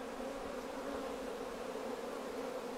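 During a hive split, a mass of honey bees climbs a ramp, giving off a continuous, even buzzing hum close by with no voices.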